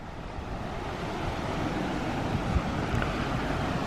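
Water waves wash against the shore near old ruins, a continuous broadband rush, wind-blown and fairly loud, with no voices.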